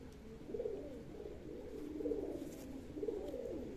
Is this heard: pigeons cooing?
yes